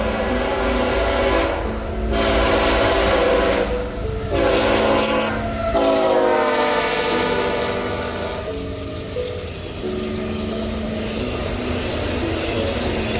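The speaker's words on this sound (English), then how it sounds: "a CSX intermodal appeared from around the corner" A CSX intermodal freight train rolls past at close range, steady heavy rumble and wheel noise with a horn sounding partway through, loud and continuous with no voices.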